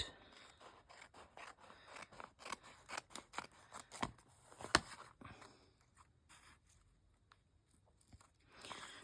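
Scissors snip away excess glued paper at close range, a quick series of soft crisp cuts followed by quieter rustling of the paper.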